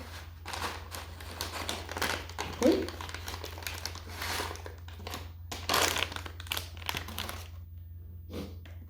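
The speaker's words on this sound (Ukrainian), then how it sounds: "я чую хрусткіт, шурхіт" Crinkly crunching and rustling of food being eaten, close up, in irregular bursts with brief quiet gaps over a steady low hum, with a louder crackle partway through.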